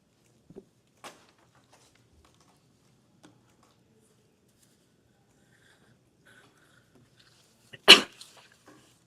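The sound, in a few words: sneeze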